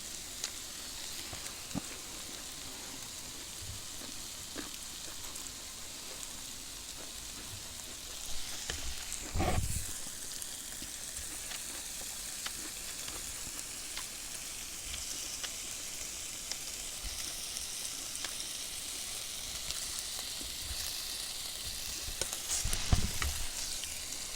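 Thick slices of pork belly (samgyeopsal) sizzling on a grill and spitting fat, a steady hissing crackle like light rain throughout with occasional louder pops and a brief clunk, no talking.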